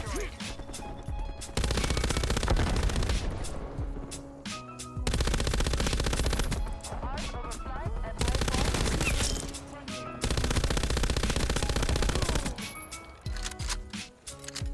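Heavy automatic fire from an MG 82 machine gun in Call of Duty: Cold War, with long sustained bursts broken by short pauses, loud and close, and a player talking faintly in the gaps.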